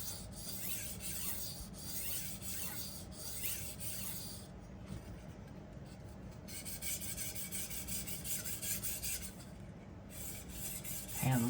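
Chef knife drawn across a Naniwa Hayabusa whetstone, a continuous close rasping scrape in long repeated strokes, loud and steady with no voices.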